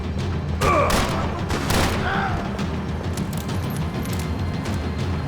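Booming shotgun blasts and heavy gunfire fill a busy Max Payne 3 firefight, with a couple of sharp louder shots early on over continuous dense game noise.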